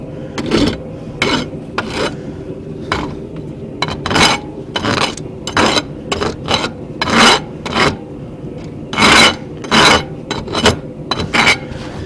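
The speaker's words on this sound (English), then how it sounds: "Taking some of the burrs off, especially on the hook end here." A hand file rasps over a forged steel feather, taking burrs off the hook end in a series of irregular, close scraping strokes with short pauses between them.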